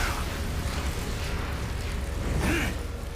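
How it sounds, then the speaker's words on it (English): Explosive blasts from an anime fight scene in Jujutsu Kaisen, a rumbling roar that holds steady throughout and swells into a louder burst near the end, with no talking over it. "A 2-stage attack of sound and explosions."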